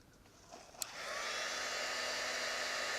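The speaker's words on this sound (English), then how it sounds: "I'm going to speed up the process by using my heat gun" A heat gun used to melt wax into wood, starting up after a click and settling into a steady, moderately loud blowing whir that continues without a break.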